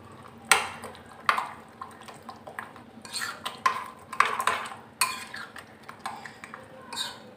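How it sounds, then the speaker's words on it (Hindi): Salt and spices being mixed into achari potato and eggplant, repeated clinks and scrapes of a spoon against a pot in an irregular rhythm, close and clear, no talking. "और हम करेंगे इसको मिक्स।"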